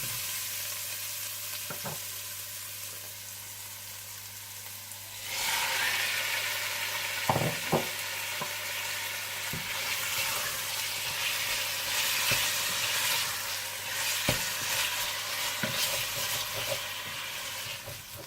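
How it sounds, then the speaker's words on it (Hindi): Marinated chicken fries in a pan with a steady sizzle that grows louder midway, and a spoon scrapes and stirs through it in occasional sharp knocks. "आप इसमें मैरिनेट किया हुआ चिकन डालकर अच्छी तरह से भून लीजिए"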